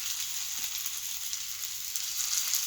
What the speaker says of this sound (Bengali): এভাবে ছোটো ছোটো করে সবকটা দিয়ে ভেজে নেব।